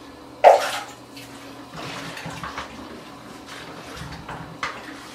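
A C-41 film developing tank is tipped up and down in a warm water bath, giving a sharp splash and slosh at the start followed by softer, repeated water movements and a faint knock near the end, close and alone.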